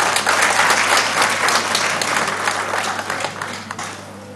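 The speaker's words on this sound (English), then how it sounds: "So big round of applause for both this." A conference room full of people applauds, a dense wash of clapping that holds steady and then tapers off at the end.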